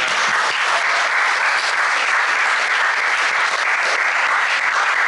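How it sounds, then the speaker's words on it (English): Audience at a fundraiser dinner applauding, a dense, steady wash of clapping from many hands that holds evenly loud from start to finish, with no voices rising above it. "Give them a round of applause."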